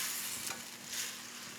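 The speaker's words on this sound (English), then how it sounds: "So I'm just bringing this back up to a boil." Lamb shank braising liquid coming back up to a boil in a pot, a steady close bubbling sizzle with faint stirring movement.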